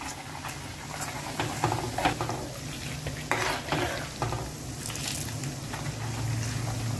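Homemade ghee simmers and sizzles in a pan over a medium gas flame while a spoon stirs it continuously, making a soft, steady bubbling with light scraping.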